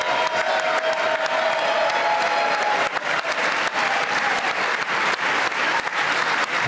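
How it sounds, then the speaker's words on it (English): Congressional standing ovation: a large crowd clapping continuously and loudly, with faint cheers mixed into the steady roar of hands. "See who will stand and clap the longest"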